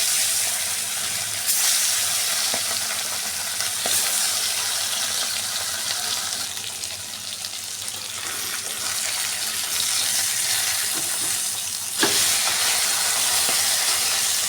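Bata fish, rubbed with salt and turmeric, frying in hot oil in a kadai, giving a loud continuous hissing sizzle with a few faint clinks, close and steady throughout.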